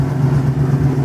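A 1969 Ford Mustang's engine running close by, a loud, steady low rumble with slight surges, alone with no talking.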